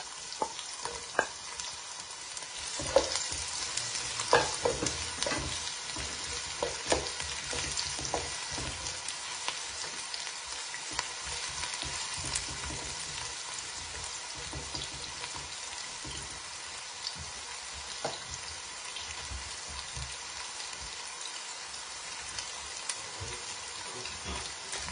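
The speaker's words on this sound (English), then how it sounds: "So now you are putting the onion to fry." Onion sizzling and crackling steadily in a hot pan, a continuous dense frying hiss with scattered pops and occasional stirring, no talking.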